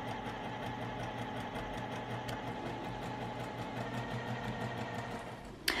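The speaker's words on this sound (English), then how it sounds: "we're just going to run a stitch about a quarter of an inch all the way down this edge" A sewing machine runs a quarter-inch stitch down the edge of fabric for a drawstring bag, a steady, close, continuous motor hum with rapid needle pulsing and a small clunk as it stops.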